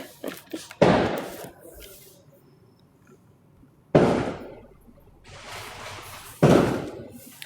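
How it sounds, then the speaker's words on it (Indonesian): Three sharp firecracker bangs go off at intervals, each with a short crackling tail, with faint scattered pops and quiet background between them. "Belum juga malam gelap petasan."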